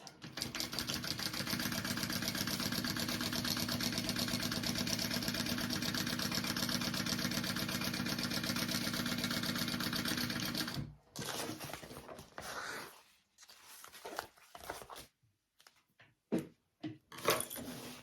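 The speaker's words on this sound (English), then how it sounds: "I'm gonna go ahead and just sew that at my full seam allowance" A sewing machine stitches a seam on a tote bag, running loud and steady for about ten seconds before stopping, followed by scattered handling noises and short pauses.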